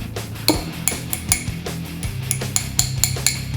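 Smith & Wesson SW990TA knife with a 440 steel blade being tapped, producing a series of bright metallic clinks and rings at irregular intervals, fairly close and alone.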